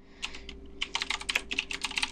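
Quick, irregular clatter of typing on a computer keyboard in a quiet room, close and fairly loud, with bursts of keystrokes and short pauses.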